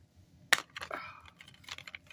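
A Blu-ray disc drops out of its case during an unboxing, giving one sharp plastic clack followed by light rattling and small clicks as it settles.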